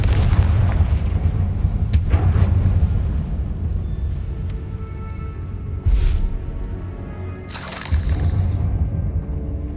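Confringo, an explosive fire spell in the Hogwarts Legacy video game, sets off loud, close booming blasts over a constant rumbling din, with sharp bursts landing near the start, middle and end.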